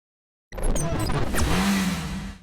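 A Ferrari F40 supercar engine bursts into a short, loud rev after silence, rising and then holding a strong growling tone for about two seconds, heard alone.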